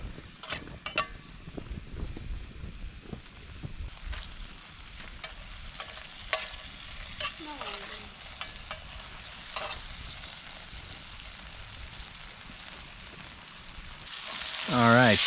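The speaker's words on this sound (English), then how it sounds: "Fry those up a little bit." Cherry tomatoes fry in a pan over a campfire, with a continuous sizzle and scattered clicks of stirring. The hiss swells louder at the very end.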